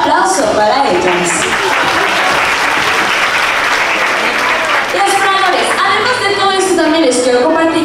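At the Mazatlán aquarium, a crowd applauds after sea lions Aranza and Gogo take a bow. The clapping is loud and dense and runs the whole time while an announcer's voice carries over it.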